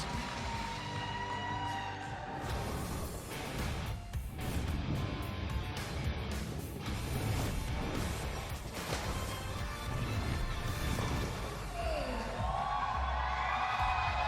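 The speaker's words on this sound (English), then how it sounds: "Oh, look at the crowd. Listen to the crowd." A large crowd at a PBA King of the Lanes Empress Edition bowling event cheers and roars continuously for over fourteen seconds, loud and dense, with shouts and whoops mixed into the din.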